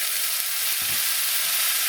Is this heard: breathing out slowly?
no